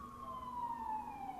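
Ambulance siren carrying from a distance, a steady tone gliding slowly downward throughout, faint and continuous against a low background hum.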